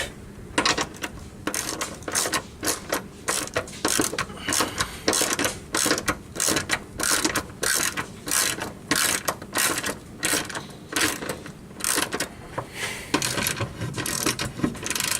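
Bolts on a Valkyrie driveshaft bearing skid plate are tightened with a ratchet, giving a long run of rapid, close clicking strokes in steady bursts with brief pauses between them.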